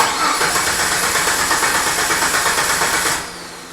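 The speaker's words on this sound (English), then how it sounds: "push your button and crank the motor over" A car engine cranks over steadily via a push-button remote starter switch with the key out of the ignition, a loud rhythmic churning that never catches and then drops off near the end.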